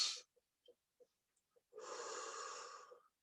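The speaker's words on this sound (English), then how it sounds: "Let's take another deep breath." A slow, audible breath drawn in and released during a calm guided mindset exercise, heard close and alone for over a second after a few soft clicks and small breathy sounds.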